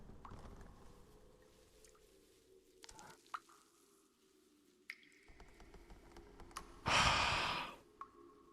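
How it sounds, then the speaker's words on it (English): A killer breathes in the horror video game The Last Case of John Morley: quiet, raspy breaths and soft clicks over a low ambient hum, then one loud, heavy exhale near the end. "I hear him breathing."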